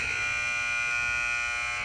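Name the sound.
basketball game-end buzzer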